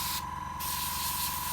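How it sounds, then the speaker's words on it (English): Short airbrush spray of NATO black paint onto a 1/48 scale Tamiya P-47D Thunderbolt model's engine, a brief close hiss over a steady compressor hum and tone. "paint the engine itself"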